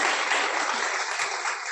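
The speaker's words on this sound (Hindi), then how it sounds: "तो उनके लिए एक तालियां हो जाए सही में।" Applause from the audience at a community gathering, a dense steady wash of many hands clapping that stays even and fairly loud throughout, with no talk over it.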